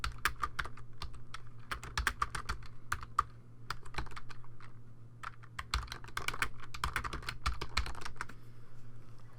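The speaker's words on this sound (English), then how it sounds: "Let's just type something in." Text is typed on a computer keyboard as an overlay is entered in Photoshop Elements, with quick, irregular clicky keystrokes in bursts and brief pauses over about nine seconds.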